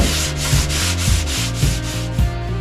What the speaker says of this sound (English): So we'll spend the afternoon sanding